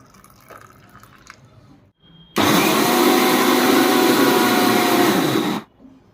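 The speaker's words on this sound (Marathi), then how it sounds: "आता असंच आहे ना आपल्याला डाळ सुद्धा वाटून घ्यायची आहे सेपरेट" A kitchen mixer grinder whirs loudly and steadily for about three seconds, close by, as it grinds soaked lentils for idli batter, with quieter kitchen sounds before and after.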